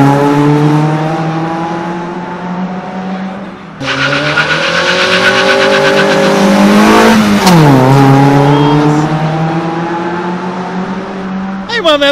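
Sports cars racing on a street, among them a Hyundai Elantra, with loud close engines revving and shifting through rising gears, a sweeping pass and a brief tire squeal midway, engines droning on.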